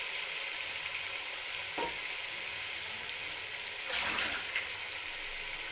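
Potatoes fry with softened tomato masala, salt and chili in a pan, giving a steady close hiss with a couple of brief stirring scrapes.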